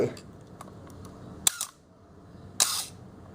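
A Canon AE-1 Program film camera fires its shutter at a series of different speeds, giving several sharp mechanical clicks in a quiet room, with two louder snaps spaced about a second apart.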